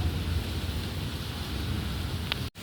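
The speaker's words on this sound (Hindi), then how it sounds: "बारिश अभी भी हुई है, बट अब थोड़ी सी हल्की।" Light rain falling steadily outside a home, a soft continuous hiss with low rumble throughout, no voices, ending in a brief dropout.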